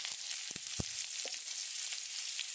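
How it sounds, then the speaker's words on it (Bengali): Bathua greens frying in a pan with onion and garlic, a faint, steady hiss of oil with a few soft stirring knocks and scrapes, no talk. "এখন আমি শাকগুলো ভেজে দেবো"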